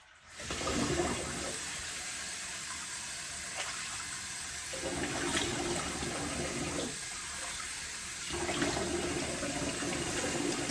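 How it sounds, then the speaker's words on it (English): Cold water running from a tap for rinsing after a shave, a steady splashing flow that shifts in tone as hands move under it, with no talking. "rinse off with a bit cold water"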